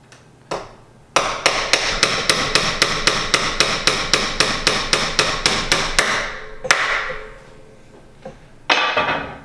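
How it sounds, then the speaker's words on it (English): Quick, evenly spaced mallet blows drive a star nut down into a bicycle fork steerer tube during stem installation, about fifteen sharp taps in a steady run followed by a few isolated louder strikes, close and clear with no talking. "now we're going to use a quick mallet and push that star nut down"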